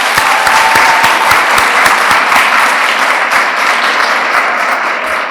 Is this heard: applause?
yes